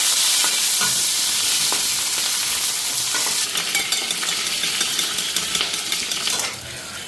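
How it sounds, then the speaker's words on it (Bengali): Chopped onion sizzles in hot oil in a pan, with steady frying hiss and scraping, clinking stir strokes of a utensil against the metal, close and fairly loud with no talking. "তো এদিকে পেঁয়াজটা দিয়ে দিলাম।"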